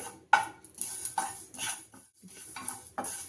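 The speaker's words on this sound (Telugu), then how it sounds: "2 స్పూన్లు మెంతులు, ఇవి కూడా మంచిగా వేయించుకోవాలండి" Fenugreek and cumin seeds dry-roast in a pan while a metal spoon scrapes and clinks against it in a few separate strokes, close and fairly quiet, with no talking.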